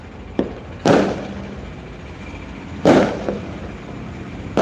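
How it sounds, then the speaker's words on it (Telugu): Two loud firecracker bangs a couple of seconds apart, each with a short crackling tail, plus fainter pops in between against a quiet background. "ఇదిగో కనిపిస్తున్నాయి కదా టపాసులు మందుగుండు"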